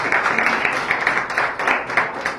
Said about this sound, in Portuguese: vamos bater as palmas para Jesus?